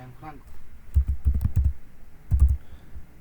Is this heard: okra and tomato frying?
no